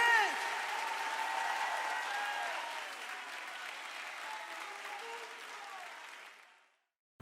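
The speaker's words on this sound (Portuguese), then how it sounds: "Aplauda o Senhor aí, gente!" A church congregation applauds at a service, a steady, fairly distant wash of clapping with faint cheering voices that holds for several seconds and then cuts off.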